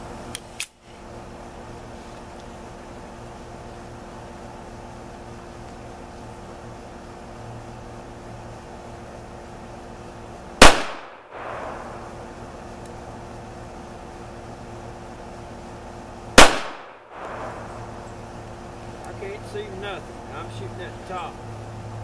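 Three sharp, isolated shots from a Colt Combat Unit pistol fired at a target 25 yards downrange, each a crisp crack with a brief tail, spaced several seconds apart over quiet outdoor background noise.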